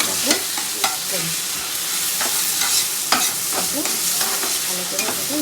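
A spoon stirs prawn curry (chingri macher jhal) around a pan in repeated scraping strokes over a steady bright sizzle of hot oil, fairly loud and close, with no voices.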